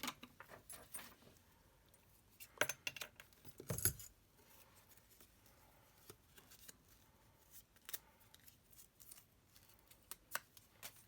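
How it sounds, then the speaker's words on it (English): Scissors snip through ribbon while making a handmade card, with light metallic clinks and rustling of paper and craft materials around them, close and quiet with no talking. "So we want some ribbon down there, so we'll cut that off."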